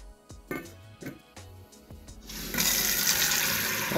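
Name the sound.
water running into sink, washing food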